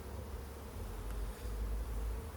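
A dense, steady buzzing of many honeybees around a hive, a continuous low hum filling the space with no voices.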